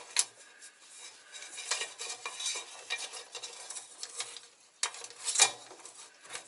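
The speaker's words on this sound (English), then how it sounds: "I don't know if this filter wrench is gonna fit" Metal oil filter wrench clinking and scraping against the oil filter of a Kenworth T680 truck during service, a string of light, close metallic taps and rattles in quick irregular bursts with no talking.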